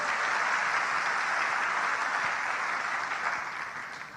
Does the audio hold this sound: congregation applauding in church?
yes